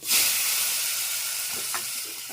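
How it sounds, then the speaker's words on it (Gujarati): Tomatoes, green chilies and crushed ginger hit hot oil already seasoned with asafoetida and fresh curry leaves, giving a loud, steady close-up sizzle with a bright burst at the start and light stirring scrapes over it. "હવે અંદર એડ કરું છું ટમેટા, લીલા મરચાં અને થોડું ક્રશ કરેલું આદું।"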